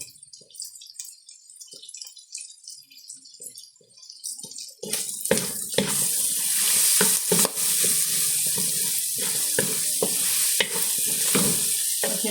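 Vegetables, string beans and chayote shoots with shrimp paste, being stirred while they sauté and sizzle in a pan. Quiet scraping at first, then a loud, steady frying hiss with repeated stirring clatter, and no voices.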